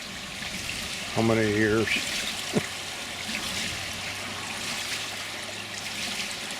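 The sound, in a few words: small trickle of water at a DIY water wheel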